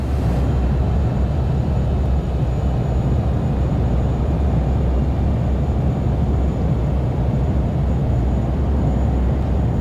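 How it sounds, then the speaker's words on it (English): An airliner's thrust reversers roar at a steady, loud level after landing in a home cockpit flight simulator, a dense continuous engine rush with no talking. "Spoilers are deployed. Reversers are out."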